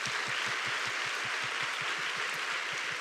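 A church audience applauds, a dense, steady wash of clapping with a faint regular low thump running through it, loud and continuous, with no voices.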